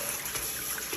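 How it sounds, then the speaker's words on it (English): Tap water runs steadily over a fish being rinsed clean in a kitchen, a continuous soft trickle and splash with no talking. "running it under the water and saying it's clean"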